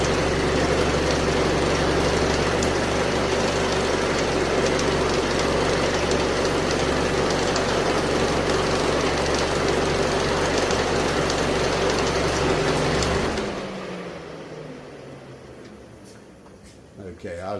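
A 2004 PT Cruiser with a 2.4-litre engine idles loudly and steadily for several seconds close to the listener, then the engine noise drops away abruptly near the end, leaving quieter background sound.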